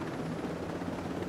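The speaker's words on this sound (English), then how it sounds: "Is there a helicopter? Yes, there is." A helicopter in the Ghost Recon Breakpoint video game gives off a steady, dense rotor drone. It sounds continuous and moderately distant, with no talk over it.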